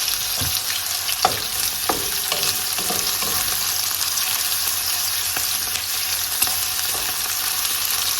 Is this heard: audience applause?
no